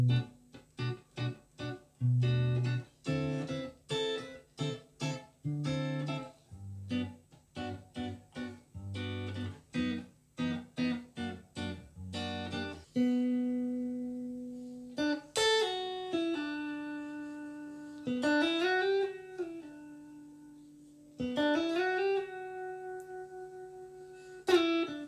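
A guitar plays a song slowly, first with clipped, muted chord stabs, then with sustained single notes and bends ringing out clearly, with no talking.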